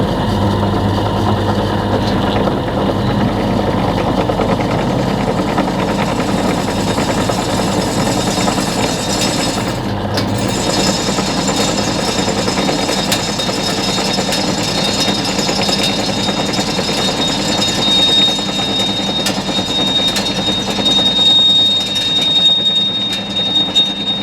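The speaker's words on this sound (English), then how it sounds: "I'm just gonna pilot these on the drill press. Okay, let's get these drilled out" A drill press bores pilot holes in a metal manifold for an off-grid micro hydro Turgo turbine, a loud continuous grinding machine drone that runs steadily throughout with no talk.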